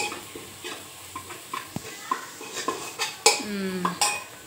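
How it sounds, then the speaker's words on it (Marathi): A utensil scrapes and clinks against a metal pan in a steady series of strokes, stirring turmeric for chicken, with a faint sizzle underneath. "हळद घालायची आहे, छान हलवून घेऊया"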